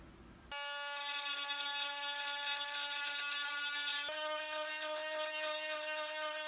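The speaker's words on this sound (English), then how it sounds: "use a Dremel to grind down the Ray-Ban logo on the sides" A Dremel rotary tool whines at a steady high pitch, grinding the Ray-Ban logo off the sides of sunglasses, starting abruptly after a brief quiet moment and running continuously, close and loud.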